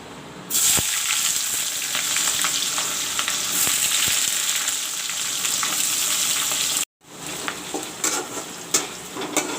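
Chopped onions hit a hot pan for a vegetable curry, setting off a loud, dense sizzle that runs almost continuously, drops out for an instant, then resumes with scattered crackles and stirring scrapes.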